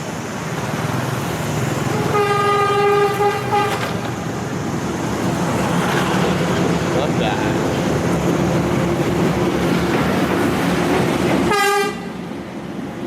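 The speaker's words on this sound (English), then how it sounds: "there goes the train." A train rumbles past nearby in Korea with a loud, steady roar, its horn sounding twice, briefly overlapped by a short spoken remark.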